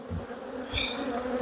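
Honeybees buzz steadily around an opened hive during an inspection of the brood boxes, a dense close swarm drone with swelling higher whines as individual bees pass near.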